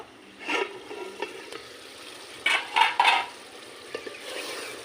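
Mutton curry stirred in a pot, with a few scraping, sloshing stirs of a spoon over a quiet background, close by and without talk.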